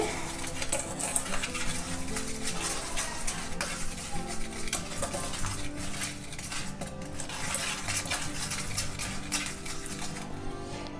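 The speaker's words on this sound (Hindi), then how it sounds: "अब हम इसको पहले मिक्स कर लेंगे" Baking powder, salt and sugar stirred together in a bowl for eggless pancakes, a spoon scraping and clinking steadily and rhythmically against the dish throughout.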